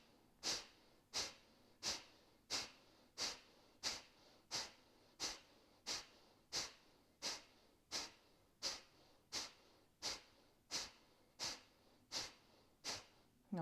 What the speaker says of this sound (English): Inhale for Kapalabhati, a little bit faster this time.